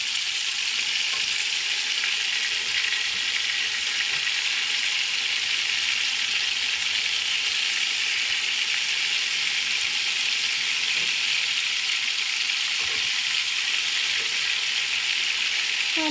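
Teriyaki meatballs searing in a frying pan give an even, continuous close hiss of hot oil for the whole stretch, with only faint pops and occasional soft clinks underneath, no talking.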